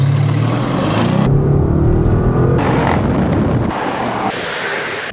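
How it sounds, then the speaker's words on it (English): An Audi RS-6 estate drives along, its engine a steady loud roar under heavy wind and road rush. The tone shifts partway through, suggesting a gear change or a change in throttle. "This is the Audi RS-6, an estate capable of hurling a quartet of business types or an antique sideboard to 62 in under 4 seconds"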